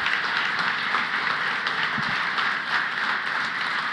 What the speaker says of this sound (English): Can we have another round of applause for these extraordinary co-workers?